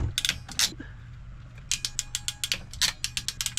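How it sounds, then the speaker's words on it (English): A ratcheting crimp tool clicks sharply on an electrical connector during a boat refit, giving a short burst of clicks, a pause, then a longer run of rapid ratchet clicks, close and crisp. "Crimp tool."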